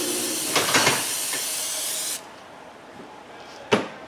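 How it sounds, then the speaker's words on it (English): An aerosol can of Fluid Film lubricant sprayed during a Ford Taurus rear wheel bearing and hub job gives a steady, close hiss for about two seconds, then one short, sharp spritz after a pause. "Give her a little spritz of the fluid film."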